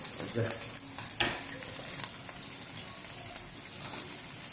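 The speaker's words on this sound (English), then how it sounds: "We have some garlic here boiling to prepare a sauce." Garlic boils for a sauce in a pan, steady bubbling and sizzling with occasional stirring clatter, close by and moderately loud, no voices.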